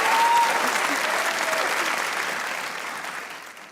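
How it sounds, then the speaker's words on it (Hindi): A burst of audience applause, many hands clapping together, loud at first and gradually fading over a few seconds. "तालियां बजाएं।"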